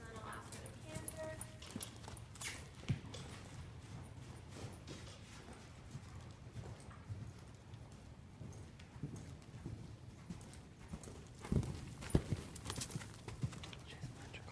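A horse on a lunge line moves at a canter, its hoofbeats thudding in a steady rolling rhythm at middle distance over a constant low rumble, with scattered louder hoof hits toward the end.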